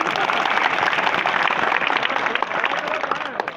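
An audience claps together at a religious gathering at Anandpuri Dham, Jatiyapur, a broad continuous wash of applause that holds steady before tapering near the end.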